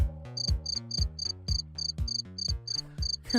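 Crickets chirp as a sound effect in steady, rhythmic bursts about twice a second, with a low pulsing drone beneath and no voices.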